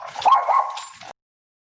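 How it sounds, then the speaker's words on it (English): A small dog barks and yips close by, a short burst of barking lasting about a second, with no talk over it. "I apologize, I have a small dog here."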